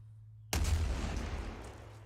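One sudden heavy artillery blast erupts in a video game after near silence, a booming shot that rolls off and decays over about a second and a half.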